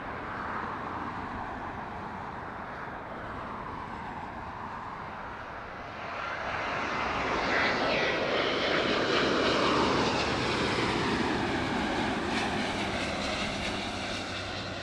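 A French Bee airliner arriving from Paris Orly at LAX roars past at a distance, its engine noise building after a few seconds into a sustained broadband rush with a faint whine.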